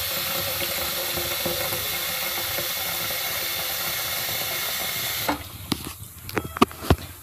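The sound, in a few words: fresh water being poured into a fish tank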